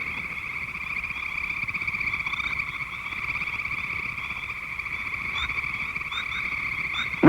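Frogs croak in a steady chorus, a sustained droning trill held without pause and heard alone outdoors, with a few brief chirps near the end.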